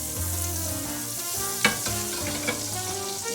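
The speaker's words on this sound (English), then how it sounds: "Now we're going to pan fry this out for a few minutes." Sage and prosciutto ham laid over turkey, pan frying in melted butter and oil; a constant close sizzle and crackle fills the clip, with a couple of sharper pops and no voices.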